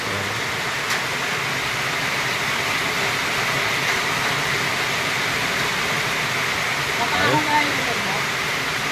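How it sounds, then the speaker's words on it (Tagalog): Heavy rain drumming on a roof over a chicken coop build site, a loud, dense, steady roar throughout, with a brief faint voice under it. "Lumakas na maulan eh."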